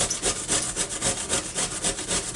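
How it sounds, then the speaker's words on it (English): Squash is rubbed over a grater in quick, regular back-and-forth scraping strokes, close and fairly loud, with no one talking. "we'll just grate up this"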